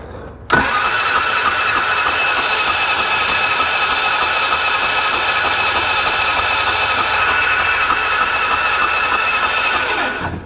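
A car engine cranks over with low oil, a continuous loud whirring drone that starts abruptly and holds steady for about ten seconds before tapering off, close and alone.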